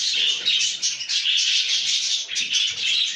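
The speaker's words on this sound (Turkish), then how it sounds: "Cıvıl cıvıllar." Pet birds in an aviary chirp excitedly, a dense, continuous chatter of high tweets and calls from several birds close by, loud and without pause.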